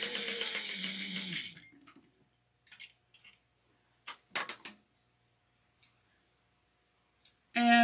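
Sewing machine stitching fabric with polyester thread at a 3 stitch length, a dense steady whirr for about a second and a half, then sparse clicks and handling noises and a short burst of stitching at the end.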